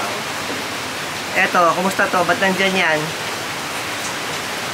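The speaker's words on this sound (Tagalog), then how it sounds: "Pero dinig nyo naman yung buhos ng ulan." Heavy typhoon rain pours outside during a storm in Laguna, a steady dense hiss filling the whole clip while a person speaks briefly over it in the middle.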